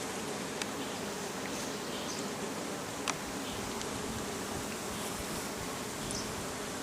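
Honey bees buzz steadily during an inspection of a backyard beehive as new comb is drawn out, a dense, continuous close-up hum with occasional louder individual bees passing near, and no voices.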